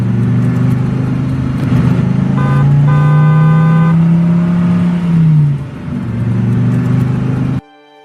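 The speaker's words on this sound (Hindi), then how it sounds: "फिर साहूकार भोलाराम को अपनी गाड़ी में बैठाकर सीधे अपने घर ले जाता है।" A car engine drones loudly and steadily, rising into a brief rev with a couple of short horn toots before settling back, then cutting off abruptly.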